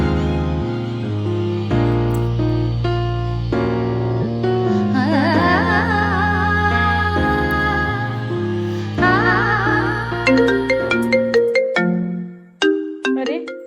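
A mobile phone ringtone plays a loud, bright melodic tune for over ten seconds, its synthetic notes stepping through a repeating pattern before ending in sharp chiming hits.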